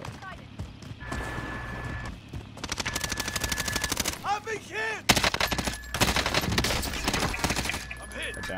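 LMG machine gun fire in the Warzone video game, rapid sustained bursts of shots broken by short pauses, fairly loud, with a voice talking over parts of it.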